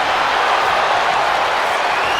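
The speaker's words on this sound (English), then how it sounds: "when you can't hear yourself think because the crowd's so loud" A loud wrestling crowd cheering in the video game WWE 2K26, a dense roaring wall of arena noise at constant high intensity.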